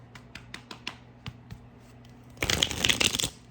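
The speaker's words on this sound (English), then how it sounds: "I want to give it a good shuffle because it's a brand new." A few soft card flicks and taps, then a quick, loud riffle shuffle of a brand-new, slightly stuck-together oracle deck, close by in a quiet room.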